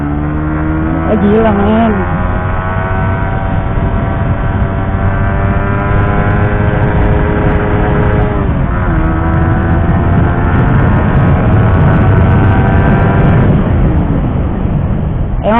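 A 2020 Suzuki GSX-R 150 motorcycle pulling away from first gear, its engine droning loudly and rising in pitch through several gear changes, with wind rush and a rider talking over it.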